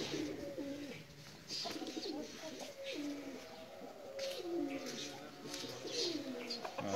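Pakistani pigeons coo in repeated soft, throaty phrases close by, with faint chirps and background noise and a little talk at low level.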